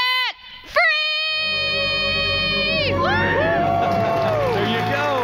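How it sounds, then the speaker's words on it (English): A woman lets out a long, loud, sustained scream celebrating becoming debt-free, wavering in pitch, while a crowd cheers and shouts loudly beneath and after it. "Let's hear your debt-free scream."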